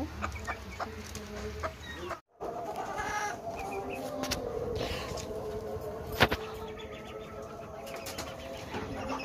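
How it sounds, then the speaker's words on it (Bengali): A laying hen with a respiratory infection clucks softly amid a busy farmyard, with scattered bird calls and a short clatter over a steady background hum. "এটা আমার ডিমের মুরগি।"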